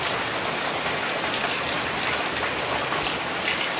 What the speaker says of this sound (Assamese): চব বৰষুণ পূৰা পৰি আছে